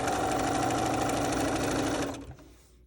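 A sewing machine stitches quilt binding with a quarter-inch seam allowance, its fast, steady, close mechanical rattle running continuously before stopping abruptly near the end.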